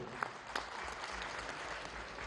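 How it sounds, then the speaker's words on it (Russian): Audience at a Chechen song concert in Grozny claps for a performer, a steady, moderately quiet patter of many hands with a couple of sharper claps near the start and no speech. "ваши аплодисменты"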